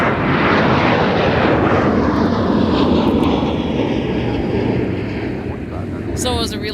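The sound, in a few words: airliner taking off from MSP airport runway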